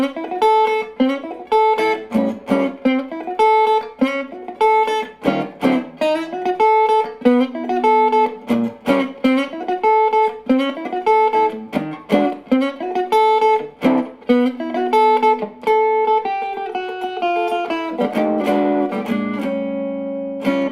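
Electric guitar with a P90 pickup playing a bright, twangy melodic line with plucked notes and a slightly gritty single-coil tone, ending on a sustained chord.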